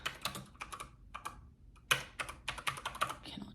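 Rapid clicking taps on a computer keyboard, close and quiet, in quick irregular bursts with a brief pause in the middle.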